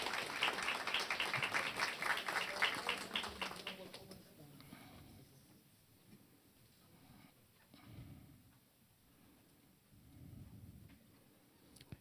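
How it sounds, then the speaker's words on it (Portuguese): A formal ceremonial session honouring the Ifá tradition fills with loud, dense clapping for about four seconds before it fades to scattered claps and low murmurs in the hall. "Salva de palmas."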